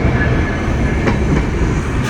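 Intercity express train rolling into Joydebpur station, a steady loud rumble of wheels on rail with faint clickety-clack and a couple of brief metallic accents, continuous throughout with no voices.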